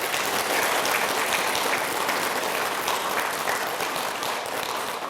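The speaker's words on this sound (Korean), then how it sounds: "일단 박수 한번 쳐주세요." A live audience at a Buddhist prayer talk breaks into steady, dense applause, a continuous wash of many hands clapping at even loudness for the whole stretch with no voices over it.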